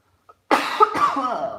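A single close cough bursts out loudly in a quiet room, followed by a brief rough throat-clearing tail.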